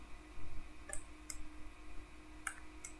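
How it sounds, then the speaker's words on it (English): Computer mouse buttons clicking a few times, sharp isolated ticks spaced unevenly, while images are dragged in dental imaging software, over a quiet room hum. "Just left clicking and dragging our images to the top."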